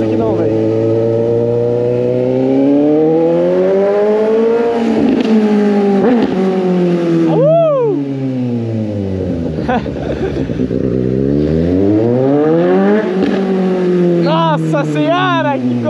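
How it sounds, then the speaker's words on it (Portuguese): A loud Suzuki GSX 750 motorcycle engine roars and revs up and down close by, its pitch rising and falling through clutchless gear changes with tire noise mixed in. "Nossa, a moto me berra demais"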